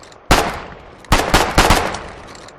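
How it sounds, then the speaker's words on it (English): Gunfire in the video game Foxhole, a single loud close shot followed by a rapid cluster of three or four shots, each with a short ringing tail. "I'm about to make my first shot."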